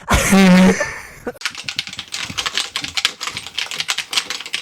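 A GK61 mechanical keyboard with decorative switches is typed on in a steady, fast clatter of close, crisp keystrokes for several seconds, after a brief vocal sound at the start.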